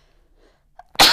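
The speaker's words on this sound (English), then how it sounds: "I'm gonna sneeze." A single loud, close sneeze bursts out at the end after a brief quiet intake of breath, from a knitter talking during allergy season, with nothing else notable around it.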